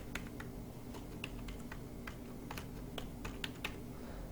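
Numbers being typed on a computer keyboard while cleaning Excel data: quiet, irregular clicks from individual keystrokes, a dozen or so scattered over several seconds, close by over a low background hum.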